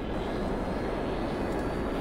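A jet aircraft engine in GTA 5 gives a continuous, loud, broadband roar that stays steady throughout, with no voices over it.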